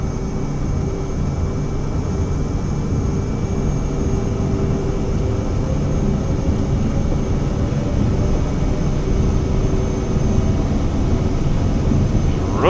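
Cirrus Vision Jet engines held at takeoff power in Microsoft Flight Simulator, a steady, loud jet whine over a low rumbling drone with faint tonal hums, unbroken and without voices.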